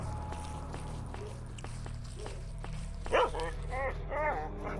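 Blind mutant dogs in the video game S.T.A.L.K.E.R. Shadow of Chernobyl bark and yelp in short bursts over a low ambient hum, moderately near, with a soft voice murmuring at times.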